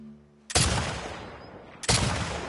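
Two loud, sharp rifle shots in a video game, spaced about a second and a half apart, each cutting in abruptly and trailing into a long, booming echo.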